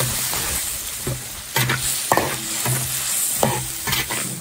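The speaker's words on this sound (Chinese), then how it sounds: "所有调料给它炒香" Spices, Sichuan peppercorns and hot pot base stir-fried in plenty of oil in a large iron wok: a steady loud sizzle with repeated scraping strokes of the spatula, no voices.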